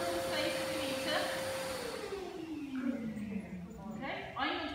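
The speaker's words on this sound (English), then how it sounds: "I'm going to bring the Hoover a little bit closer into the middle of the room" A Hoover vacuum cleaner runs steadily indoors during puppy desensitization training, its motor whine holding then sliding lower in pitch as it winds down, fairly close and continuous throughout.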